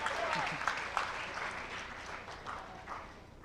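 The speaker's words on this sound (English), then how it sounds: "I would like to give us a round of applause for Dr. Ash Pachauri, our very own director." Conference audience at a population forum applauding, a fairly quiet, continuous patter of many hands clapping with small swells, heard from within the room.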